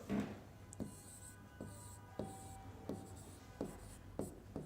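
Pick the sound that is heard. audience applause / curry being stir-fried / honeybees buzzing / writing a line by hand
writing a line by hand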